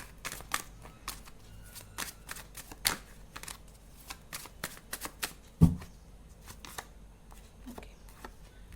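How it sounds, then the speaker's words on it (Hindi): Tarot deck being shuffled by hand, a series of crisp riffles and papery flicks in an uneven rhythm with one sharper tap midway, close and soft, with no speech. "एक और बार शफल करके"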